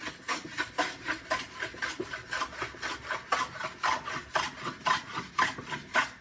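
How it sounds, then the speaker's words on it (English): A very sharp blade scrapes across the top face of a piece of wood to flatten it. Close, steady rasping strokes repeat at a quick, even rhythm, with no talk over them. "we're trying to flatten the top of a piece of wood"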